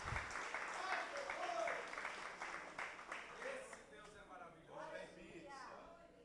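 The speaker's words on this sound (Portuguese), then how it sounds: "Vamos aplaudir o Senhor?" Church congregation applauding the Lord during a sermon, a broad wash of hand clapping that swells early then thins, with a voice talking over it toward the end.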